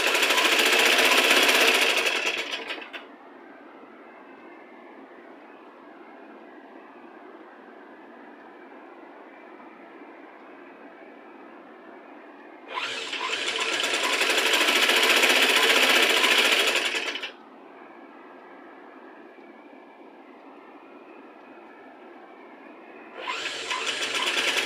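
Close and loud, a sewing machine stitches invisible piping in three separate bursts of several seconds each, with quiet pauses in between.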